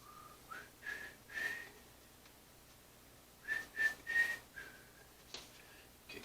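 A person whistles a short tune alone, a few phrases in two bursts separated by a quiet gap.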